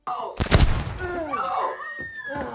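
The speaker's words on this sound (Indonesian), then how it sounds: "Ross kemudian menembak Billy." A single loud gunshot in a film bursts out sharply near the start, followed by a strained, wavering vocal sound and a tense musical tone as the echo fades.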